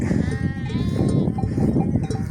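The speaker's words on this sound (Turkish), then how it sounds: "Koyun yeme geliyor yorgun tekrar meraya çıkmak istemiyor." Sheep on a pasture bleat repeatedly in wavering calls over a busy, noisy background, the flock returning from grazing.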